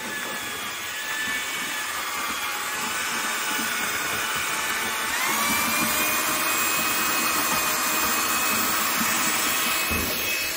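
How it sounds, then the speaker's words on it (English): A batch of thin stamped concrete overlay, two bags at a time, is mixed for resurfacing a concrete floor, giving a steady, loud motorized whir with gritty churning that runs without a break and swells slightly partway through. "We're out here mixing the first batch."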